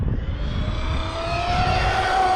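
A Traxxas Maxx V2 RC car on a 3S battery with 27/46 gearing at full throttle gives a steady, high electric whine that climbs in pitch as it speeds away.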